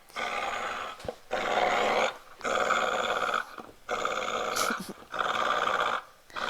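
A dog growls while playing tug, in repeated close, rumbling bursts with short pauses between them.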